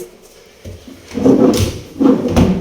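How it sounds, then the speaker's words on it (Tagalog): A wardrobe drawer in a newly built house slides open in two scraping, rumbling pulls with soft knocks, close by and alone with no talk. "At syempre may drawer din siya."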